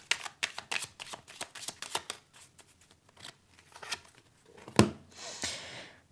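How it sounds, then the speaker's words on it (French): Tarot cards are shuffled by hand in quick crisp riffles and flicks, a dense run of sharp papery snaps followed by a louder slap and a softer sliding rustle near the end, with no talking. "On va aller prendre quelques cartes avec les autres jeux"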